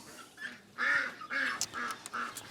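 Muscovy ducks in a farm duck area on a spring day give a run of close, fairly loud nasal quacks and honks in short bursts, one after another, with no talking.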